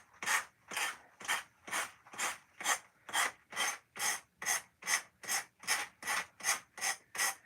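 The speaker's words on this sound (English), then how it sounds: "I'm going to use my Gator sander to get the extra off." Gator sander working a seashell trinket dish: about sixteen even back-and-forth rasping strokes, close and steady, with no talk.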